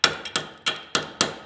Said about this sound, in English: you can take a brass hammer